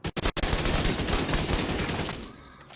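Rapid automatic gunfire in a looter-shooter game with a max-damage build, a few sharp single shots then a dense continuous burst of nearly twenty rounds, loud and close, cutting off abruptly at the end.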